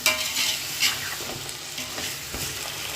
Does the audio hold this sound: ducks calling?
no